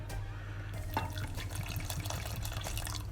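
A small splash of blended scotch is poured into BBQ sauce, heard as a faint liquid trickle and drips beneath a steady low background hum.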